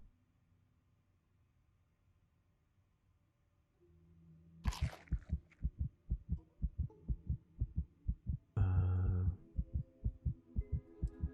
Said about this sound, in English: Why is it giving me my heartbeat in my ear?